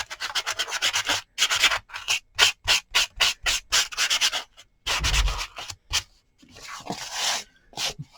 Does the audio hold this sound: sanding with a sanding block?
yes